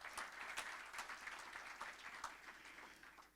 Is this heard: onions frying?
no